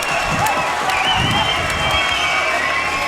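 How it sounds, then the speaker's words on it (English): After an amateur XFC 50 fight between Gordon Reale and Caleb Miller, an arena crowd gives a standing ovation: loud, dense applause and cheering roar continuously, with scattered whistles and shouts. "We have a standing ovation from the crowd"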